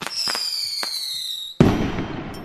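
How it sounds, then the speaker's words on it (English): A firework goes off with a sharp, loud bang after a steady high whistling tone and a few pops, leaving a noisy crackling decay that fades out. "why do some things like a firework blow up with a bang"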